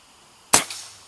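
One sharp, sudden crack from a custom Black Lava slingshot firing a shot at a paper target, brief and close with a quick decay.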